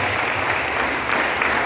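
A church congregation applauds in a steady, dense wash of clapping that stays loud and even throughout, with no speech over it.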